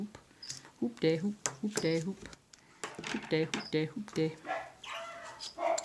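Dogs bark repeatedly in short, lively bursts indoors nearby, their yaps and woofs coming in quick clusters with brief pauses between them.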